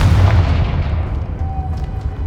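Confringo blasting spell from Hogwarts Legacy detonates at the start, a loud boom that decays into a rumbling tail, followed by a faint short magical whistle.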